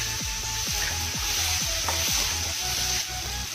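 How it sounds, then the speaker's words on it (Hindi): Ground spices with salt, chilli, cumin, turmeric and coriander sizzling in a pan for masala Maggi, a continuous bright hiss with rhythmic scraping strokes of a spoon stirring at a steady pace. "इन सबको ऐड करके हम अच्छी तरह से इसको भून लेंगे"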